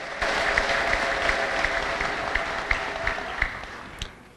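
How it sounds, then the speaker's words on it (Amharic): A church congregation claps steadily together with rhythmic accents, sustained high ululation trilling over the applause throughout. "እልልታና ጭብጨባ ለጌታ አምጡ"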